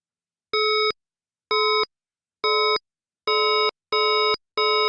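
A glassy synth oneshot designed in Serum 2 rings out as six clean, bell-like tones with bright, pure harmonics, each about a third of a second long and separated by silence, loud and isolated.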